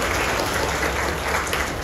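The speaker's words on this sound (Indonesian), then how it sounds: "kita berikan tepuk tangan yang meriah" Brief burst of steady congregation applause for the four-member Gita Voice vocal group at a memorial Mass, dense clapping filling the whole moment.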